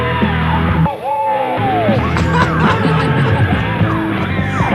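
Compilation of David Lee Roth's screams, loud continuous yelling and bellowing with sliding pitch, edited together in quick succession over a dense, busy background.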